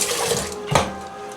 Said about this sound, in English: And then I rinse it all off.